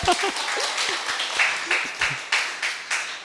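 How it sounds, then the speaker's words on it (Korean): A church congregation at a Korean mission training service claps for the English interpreter, dense broadband applause filling the room steadily for a few seconds with periodic louder swells, plus faint vocal sounds mixed in. "우리 통역하는 우리 친구한테 박수 한번 칩시다."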